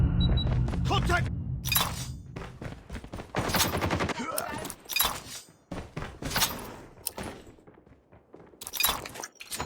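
Video game gunfire from the mythic Grau rifle, loud rapid bursts broken by short pauses, mixed with shattering impacts and radio-style voice callouts between shots.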